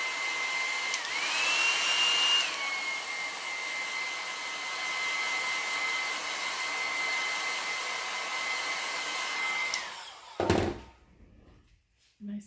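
A hair dryer blows steadily and fairly loud over a painted craft piece, pitch shifting slightly as the setting changes, then cuts off and is followed by a couple of thunks.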